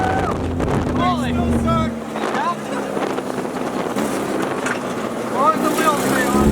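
A Honda-swapped buggy engine revs hard while driving, loud and close, rising and falling with heavy wind buffeting over it; a voice speaks briefly over the noise.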